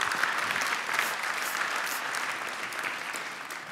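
A studio audience on a late-night show claps for footballer Michael van der Vaart, a full, steady round of applause that stays loud and even from start to finish, with no talk over it.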